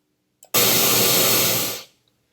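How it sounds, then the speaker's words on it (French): A 1980s analog synthesizer produces white noise: a loud, even hiss with no pitch that lasts a little over a second and then stops abruptly. "Ça, c'est le bruit blanc, il n'a pas de fréquence."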